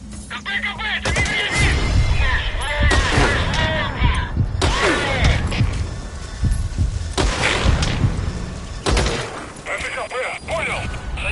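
Loud unsuppressed gunfire in a video game, with repeated sharp bursts of shots spread across the clip amid game noise and a voice speaking.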